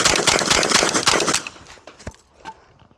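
An AK pistol fired in a fast, loud burst of rapid shots lasting over a second, followed by a few scattered single shots and echoes fading outdoors.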